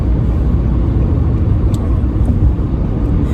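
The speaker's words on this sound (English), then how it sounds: "that's a lot of traffic today" Road traffic on a busy street, a continuous low rumble of passing cars and engines, steady and fairly loud, no distinct single pass standing out and no talk heard.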